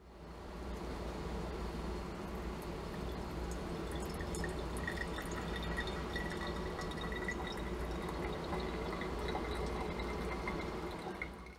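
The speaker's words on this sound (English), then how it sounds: "zero out the scale and add 100 grams of water" A thin, steady stream of water trickles and splashes softly into a Hario V60 coffee dripper, close by and quiet, continuing without pause.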